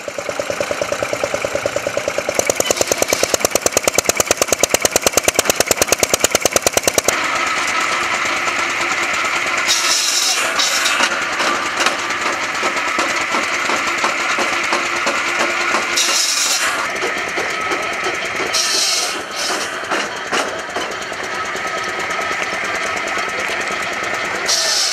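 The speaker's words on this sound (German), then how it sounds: "In Notzeiten kamen auch mit Holzgas betriebene Motoren zum Einsatz. Hier als Antrieb für eine Kreissäge." At a vintage machinery meet in Ehingen, a wood-gas-powered engine drives a circular saw, producing a loud, continuous rapid mechanical chatter with pulsing engine beats and bursts of bright whining saw noise.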